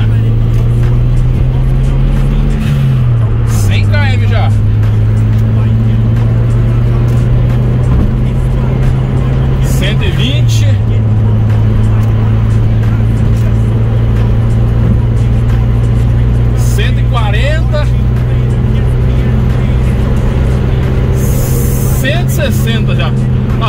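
A Mitsubishi Eclipse cruising on a highway gives a loud, close, steady engine drone and road rumble inside the cabin, its pitch stepping down twice as gears change, with occasional voices talking over it.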